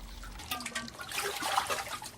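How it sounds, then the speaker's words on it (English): Water trickles and splashes faintly in a village water tank as pots and freshly picked vegetables are rinsed, with soft dribbling and light sloshing over about two seconds, close by and with no talk. "People rinse out pots in the tanks and clean their freshly picked vegetables"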